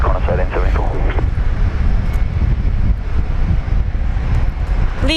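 A Qantas airliner departs Brisbane Airport with a continuous, rumbling engine roar throughout, while voices speak briefly over it near the start.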